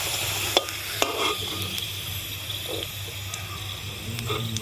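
Oil sizzles steadily in a pan as fried potatoes are lifted out, with a couple of sharp utensil clinks and scraping against the metal, all close up.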